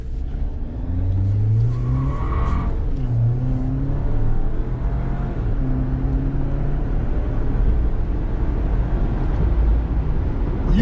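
A 2019 Jeep Wrangler Unlimited with a 2.0 turbo four-cylinder engine drives on the road, with engine pitch rising and falling through several gear changes over a steady, loud road roar.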